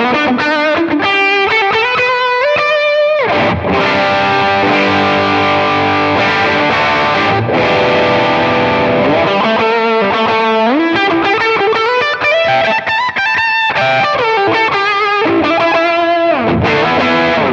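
Electric guitar played through a Strymon JFET overdrive pedal at higher gain, with a continuous stream of driven chords and sustained notes that stays loud and saturated throughout, with no talking.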